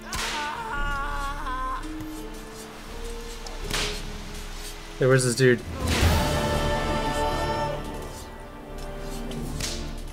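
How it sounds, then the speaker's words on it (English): Sharp whip cracks in Witcher 3 gameplay, a couple of loud snapping hits among game music and voiced character dialogue, with a player talking over the scene. "I'm hearing a whip, but I'm not seeing a whip."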